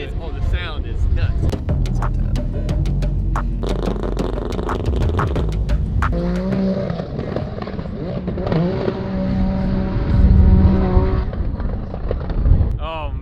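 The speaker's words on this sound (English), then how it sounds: "Oh, the sound is nuts." Turbocharged three-rotor Mazda RX-7 revs loudly and close, a raspy rotary engine note rising and falling with sharp crackles and pops from the exhaust between blips, and a voice briefly audible near the end.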